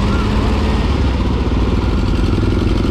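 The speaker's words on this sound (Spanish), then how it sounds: "Moto." A motorcycle engine running on the Mazatlán seafront at night, a steady loud rumbling drone with clattering texture that holds constant throughout, close to the listener.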